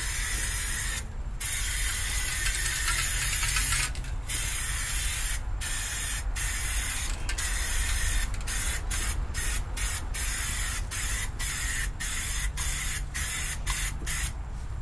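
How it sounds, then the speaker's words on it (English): Aerosol can of undercoating sprayed beneath a 1987 GMC truck, a loud steady hiss running in long bursts with short breaks between them, close to the microphone. "trying to find a spot I haven't sprayed yet"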